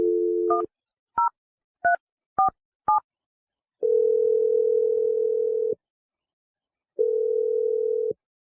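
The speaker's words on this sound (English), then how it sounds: "I'm going to dial Wendy's phone number" Telephone keypad dialing a number: five short, clear DTMF tone bursts in quick uneven succession, then two long steady ringback or dial tones separated by a gap, close and loud with no talking.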